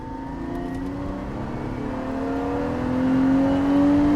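A Lexus IS300 SportCross pulls out in rainy conditions, its engine note rising steadily as it accelerates, with a continuous close drone that grows louder toward the end and no talk.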